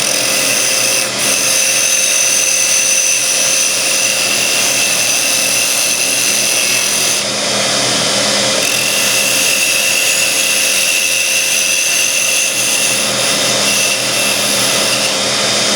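A metal lathe turns a spigot on a threading jig with a left-hand spindle, giving a loud, steady whine and hum of machining that runs unbroken and close throughout, with no talking.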